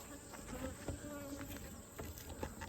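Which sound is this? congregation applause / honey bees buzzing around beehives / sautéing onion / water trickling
honey bees buzzing around beehives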